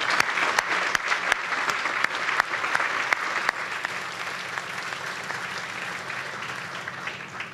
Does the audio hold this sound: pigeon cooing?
no